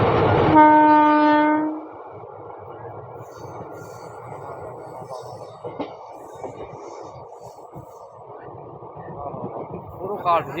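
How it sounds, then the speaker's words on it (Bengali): A passenger train on the Katwa–Ahamadpur line sounds a loud, sustained horn blast for nearly two seconds as it pulls away from an open station, then a steady rumble of moving carriages continues with faint voices and clatter. "তারপরেই ছেড়ে দিচ্ছে ট্রেন।"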